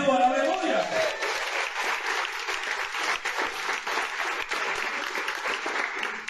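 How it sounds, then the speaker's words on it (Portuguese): A church congregation bursts into sustained applause, steady dense clapping that fills the space, with a voice heard briefly at the start. "Aplauda o Senhor."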